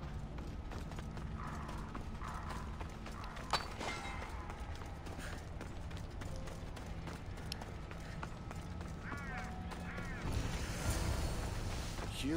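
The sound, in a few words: horse in video game Assassin's Creed Odyssey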